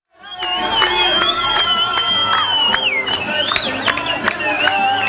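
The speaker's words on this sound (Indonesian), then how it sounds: "Pengungsi Palestina sorak-sorai merayakan pengumuman tahapan pertama rencana perdamaian Israel-Hamas" Palestinian refugees cheering in celebration after a ceasefire announcement, a dense crowd of excited voices with shouts, whistles and ululation, loud and continuous throughout.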